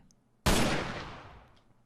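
A single loud gunshot in Minecraft gameplay, a sharp blast that decays over about a second, alone against near silence.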